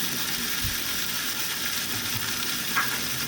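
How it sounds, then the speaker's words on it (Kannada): Bitter gourd pieces fry in oil in a pan with a steady, close, continuous sizzle and light crackle throughout, with no talking. "ಚೆನ್ನಾಗಿ ಹುರ್ಕೋಬೇಕು"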